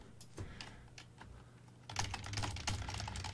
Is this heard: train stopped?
no